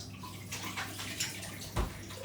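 Chicken stock pours steadily into a pot with a soft rushing splash, ending in a brief thicker gurgle near the end.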